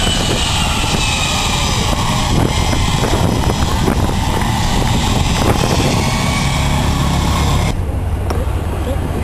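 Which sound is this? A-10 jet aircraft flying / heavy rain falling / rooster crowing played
A-10 jet aircraft flying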